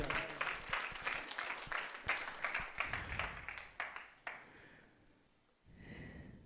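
A church congregation claps at a pastor's urging during a worship service, a run of quick, rhythmic claps that build and then fade, followed by a brief quiet and a softer breathy sound.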